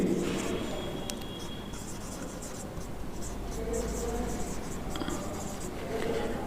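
Pen scratching on paper in continuous close strokes, with soft scribbles and taps throughout a low room background and no clear talk.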